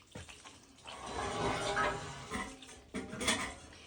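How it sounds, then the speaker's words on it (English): Water pours and splashes into a container in a quiet indoor space, a soft uneven gurgling stream with small knocks and clinks as it fills. "Put a little more water in there."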